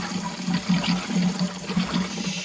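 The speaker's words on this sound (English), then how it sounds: "it's flushing down the drain line, out to the drain, with water or cleaning solution or whatever" Water or cleaning solution gurgles steadily through a drain line out to a drain, a close, continuous rushing flow with a pulsing low churn and no voices.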